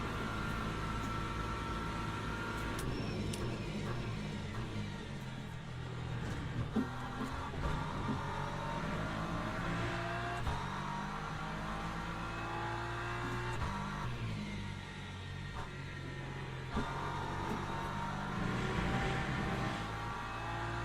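Race car engine in the Le Mans Ultimate sim during an ELMS race, a steady loud drone with shifting pitch as it pushes to catch a slipstream, holding continuously for about twenty seconds with no talk.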